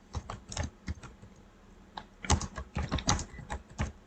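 Typing on a computer keyboard: quick bursts of close key clicks in uneven runs, pausing briefly in the middle before a denser flurry, with no talking.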